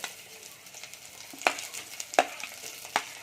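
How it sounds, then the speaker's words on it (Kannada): Beans and carrot frying in a pan for vegetable pulao, with a soft steady sizzle under a few sharp scraping stirs of a spoon against the pan, close by and fairly quiet. "ಇದೊಂಚೂರು ಹಾಕೊಂಡು ಫ್ರೈ ಮಾಡ್ಕೋಬೇಕು. ಇವಾಗ ಬೀನ್ಸ್ ಹಾಕ್ಕೊತಿದ್ದೀನಿ, ಆಮೇಲೆ ಕ್ಯಾರೆಟು"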